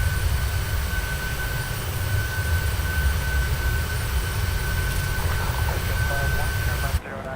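Boeing 737-900 jet engines in Microsoft Flight Simulator give a loud, steady broadband roar with a sustained whine, continuous throughout and cutting off abruptly near the end, with faint speech underneath.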